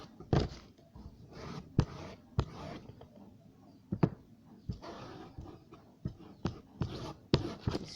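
A pencil rules lines on tote bag material, heard as a series of short scratchy strokes with pauses between them, close and fairly quiet, with no talking.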